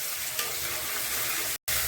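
Desi chicken frying with salt and spice powders, a loud steady sizzle with stirring close by, broken briefly by a split-second gap near the end.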